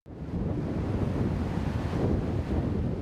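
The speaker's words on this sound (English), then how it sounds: "The waves were calm Sunday as people began cleaning up the destruction along Maine's southern coastline." Ocean surf washes steadily along the southern Maine coastline the day after a storm, a continuous broad rushing wash with wind noise buffeting the microphone and no clear breaks or voices.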